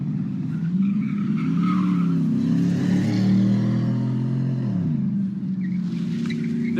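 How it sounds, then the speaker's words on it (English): A car speeds through an intersection against a red light at a street protest, its engine droning steadily and loud up close, rising and then dropping away as it passes, with a brief tire-like squeal and no voices. "there's a car running a red light"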